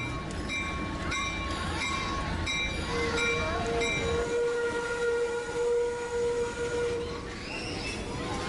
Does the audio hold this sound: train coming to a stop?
yes